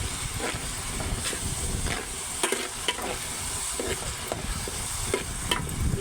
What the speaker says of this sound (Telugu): సాల్ట్ వేసుకుంటే ఉల్లిపాయలు తొందరగా ఫ్రై అయిపోతాయి